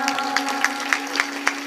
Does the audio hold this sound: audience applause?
yes